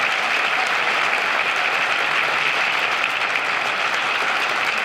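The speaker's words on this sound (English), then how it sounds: "Please give a warm round of applause" Steady, loud audience applause at a school district breakfast event honoring a superintendent, continuous dense clapping from a large crowd filling the room without a break.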